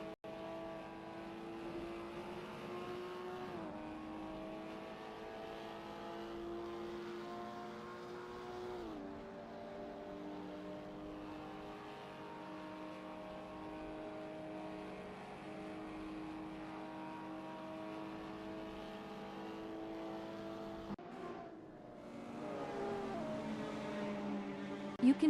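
A race car engine in a sim racing game, Simspeed Sport Cup, drones steadily through a qualifying lap, its pitch climbing and dropping through gear changes with a sharp downshift and rev burst near the end, loud and continuous without talk.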